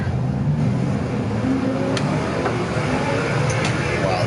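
A rear-engine car races in Gran Turismo 7, its engine holding a steady, loud revving whine with slight pitch shifts, heard alone and close.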